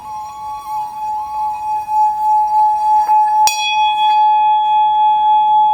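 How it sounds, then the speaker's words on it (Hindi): A single bell struck with a hammer, its bright metallic strike ringing out and sustaining in a long, clear, shimmering decay, with a second sharper strike midway through. "जब आप इस घंटी को बजाएंगे"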